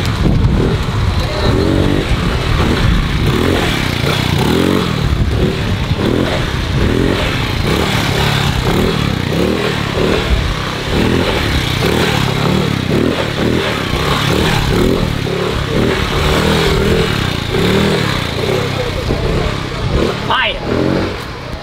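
Motorcycles rev at a Caribbean bike life meetup and street ride-out on Sint Maarten, with loud, continuous engine roar and surging throttle blips mixed with crowd noise and voices.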